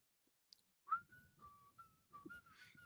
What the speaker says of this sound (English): Yeah, I heard you whistle.